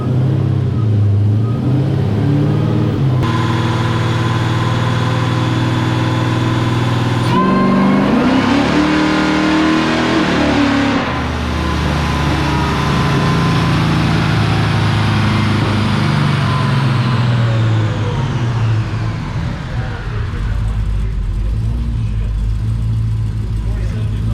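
A Dodge Demon engine pulls hard through the gears, its loud, close roar climbing in pitch before sudden breaks as it shifts, then winding back down, with people talking over it.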